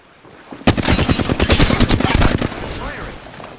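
A rapid burst of automatic gunfire in a squad shooter game, many close shots packed together for about two seconds and then quickly fading out.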